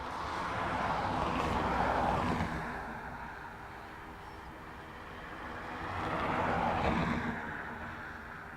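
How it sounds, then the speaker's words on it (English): A Ryanair jet landing on runway 10 left at Dublin Airport gives a distant engine roar that swells, fades, then swells again, moderately loud with no talk. "Inbound Ryanair going for 10 left."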